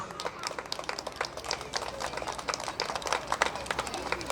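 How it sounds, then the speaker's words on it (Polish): A crowd applauds the best goal scorer at a youth football tournament closing ceremony, with dense, steady clapping from many hands at moderate distance, lightly rising and falling, with a voice faintly underneath. "Dziękuję serdecznie, gorące brawa"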